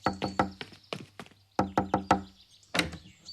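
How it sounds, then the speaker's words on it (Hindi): Knocking on a door, loud and close, in quick bursts of several sharp raps separated by short pauses, with no one talking. "रोहित, दरवाजा खोलो।"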